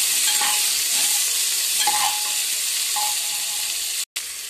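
Onions frying in hot oil in a pan with spices for a chicken dish, a loud steady sizzle with occasional stirring scrapes, close and continuous, broken by a brief dropout near the end.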